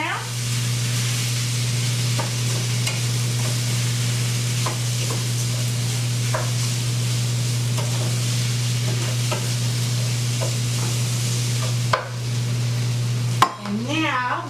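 Rice tossed and stirred in a sizzling skillet for a Cajun-style dinner, giving a steady close frying hiss with scattered scraping and clinking strokes and a constant low stove hum throughout.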